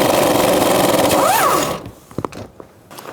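An 11mm socket on a ratchet working the steering intermediate shaft bolt on a 2000-2006 Chevy Tahoe, a loud whirring buzz with a rising-and-falling whine for nearly two seconds, then a few sharp metallic clicks in quiet.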